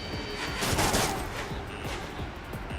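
Missiles and gunfire in the jet combat video game Ace Combat 7, a dense continuous rattle of rapid shots and blasts, loud and close throughout.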